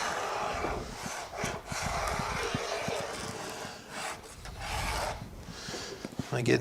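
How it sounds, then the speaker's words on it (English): A pencil traces an outline on a scrap piece of MDF, making close, scratchy rubbing strokes in short bursts with brief pauses between them. "I'll draw the outline of it"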